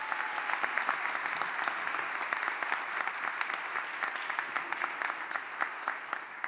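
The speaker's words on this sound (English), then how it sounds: "So can we give them all a round of applause?" An audience applauds at a Democratic governor candidates' forum held in a Presbyterian church, a steady, dense wash of clapping lasting several seconds with no voices over it.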